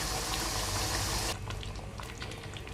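A yogurt and spice mix pours into a pot of cooking degh-style chicken korma: a loud, steady liquid rush and hiss that cuts off abruptly, followed by quieter bubbling and sizzling.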